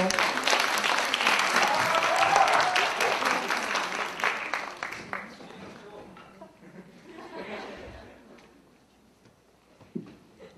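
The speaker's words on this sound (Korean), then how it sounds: "박수 주세요." A seated audience at a student presentation event breaks into loud applause that lasts several seconds, then thins out into scattered clapping, murmuring and light laughter before the room quiets.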